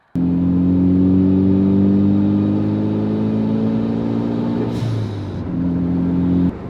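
A tuned Mitsubishi Lancer Evolution X, full bolt-on and running flex fuel, accelerates hard with a loud, close engine note climbing steadily through a long pull, then a brief gear change before the revs rise again.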